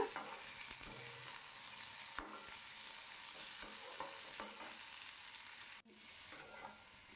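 Julienned ginger is tossed and stirred in a hot pan for a makhni-style chicken gravy. A soft, steady sizzle is broken by scraping stirs, with a brief drop-out near the end, and no voices.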